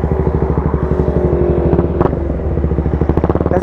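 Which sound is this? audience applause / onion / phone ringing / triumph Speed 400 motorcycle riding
triumph Speed 400 motorcycle riding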